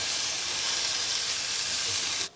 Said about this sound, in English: we're going to go ahead and saute this for about 10 minutes